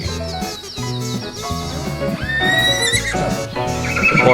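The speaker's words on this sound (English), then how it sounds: "Horse." A horse gives a loud, drawn-out whinny in a farm-animal setting, its pitch sliding up and then falling away across several seconds, with no talking.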